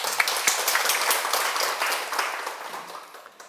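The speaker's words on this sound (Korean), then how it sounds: "박수 한번 치세요." An audience at a talk on prenatal education claps in dense, loud applause that fades steadily toward the end.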